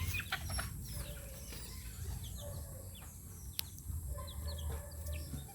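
A flock of backyard chickens with many roosters, pecking at scattered rice, cluck and chirp faintly at a distance in a quiet outdoor setting, with scattered brief calls and no voices.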